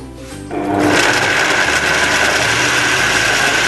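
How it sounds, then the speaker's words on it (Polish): A kitchen blender whirs steadily at full power, blending gazpacho ingredients including onion, garlic, cucumber and vinegar seasoned with salt and pepper, starting up after a brief quiet moment and running loud and continuous. "Doprawiamy oczywiście całość solą i pieprzem. I miksujemy."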